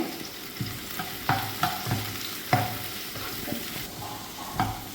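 Onions frying in a pan for a chicken curry, a steady low sizzle broken by several sharp scrapes and knocks of a stirring spoon at irregular intervals, close and moderately loud.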